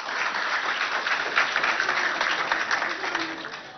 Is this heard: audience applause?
yes